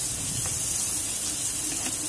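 Chopped onions fry in a hot pan, a steady broadband sizzle and hiss running without pause, with faint soft scraping from stirring now and then, close and even in level.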